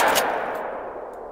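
Shotgun fired in the hunting game theHunter: Call of the Wild, a single sharp blast followed by a long fading echo rolling across open terrain.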